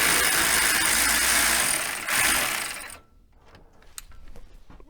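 An electric ratchet whirs loudly and steadily for about three seconds while working on a Kawasaki KRX 1000 sway bar, then stops, followed by faint clicks and tool handling.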